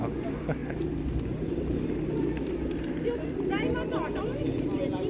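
Pigeons cooing and flying at Pashupatinath Temple in Kathmandu, soft low coos repeating over a steady outdoor murmur, with a few brief wing flutters and people talking nearby.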